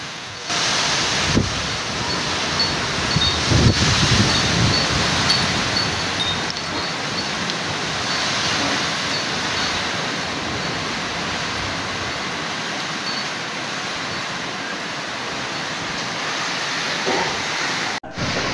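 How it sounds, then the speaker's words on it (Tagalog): Typhoon Ompong winds blow with light rain in a steady, broad roaring wash that stays loud and fairly even throughout, with occasional stronger gusts early on and no voices. "Una hangin na may kasamang konting ulan."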